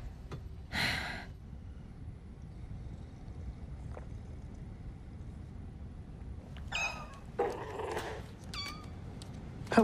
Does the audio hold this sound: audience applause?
no